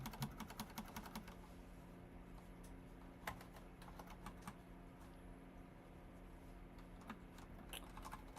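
Computer keyboard typing during a coding session, a steady run of quick clicky keystrokes with a few brief pauses and some sharper isolated taps, close and fairly quiet over a low background hum.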